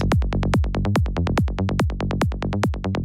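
Psytrance kick and bass in an Ableton build-up with the filter pushed higher, brighter and thinner; punchy steady kicks with fast bass pulses between them, loud and continuous without any talking.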